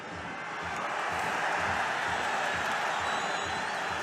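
Crowd noise rises and holds steady at a mixed martial arts fight between Luiz Filho and Avliokhon Gamidov in the final seconds, a dense continuous roar of cheering that swells early and stays loud.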